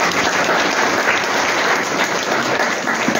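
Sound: applause

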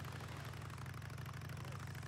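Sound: motorcycle engine idling in video game Days Gone

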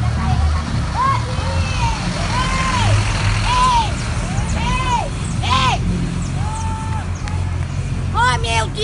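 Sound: bus driving past without stopping

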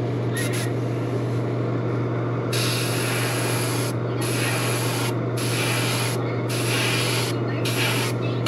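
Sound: spraying paint

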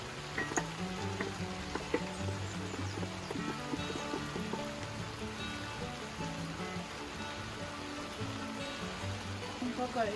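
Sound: chopped onion frying in oil

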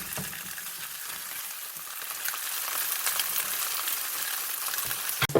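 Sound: fresh rockfish frying golden in a pan

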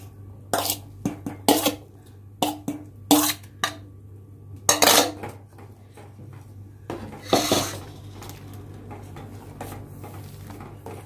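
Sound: stirring grated bottle gourd in milk for kheer

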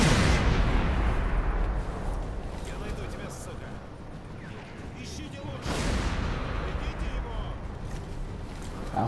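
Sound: gunfire from the video game Sniper Elite V2 Remastered

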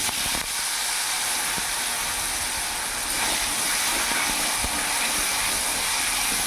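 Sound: potatoes frying in hot oil

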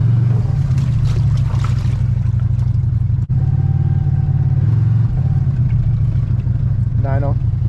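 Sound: Cfmoto 800 EX ATV driving forward through deep water

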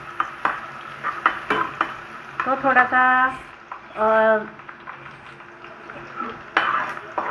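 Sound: garlic sizzling in hot oil tempering

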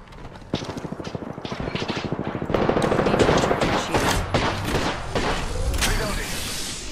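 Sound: gunfire from the video game Apex Legends

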